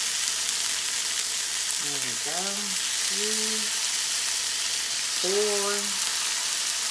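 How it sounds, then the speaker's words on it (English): Shrimp sizzle as they are laid into a hot pan, a steady frying hiss running throughout while a nearby voice talks and counts over it. "You hear them kind of sizzling a little bit."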